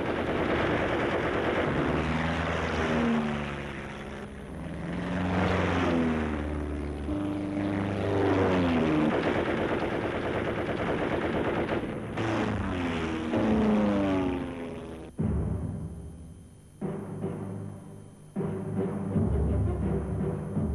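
World War I fighter planes in a 1918 aerial dogfight, propeller engines swelling and fading as aircraft pass close overhead with rising and falling pitch, followed by bursts of machine-gun fire toward the end.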